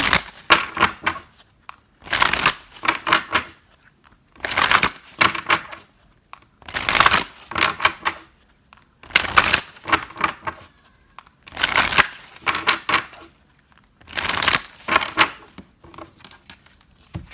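Cards from the Cycle Tarot deck are shuffled in a pick-a-card tarot reading, with seven or so crisp riffling bursts coming in a regular rhythm and short quiet gaps between them.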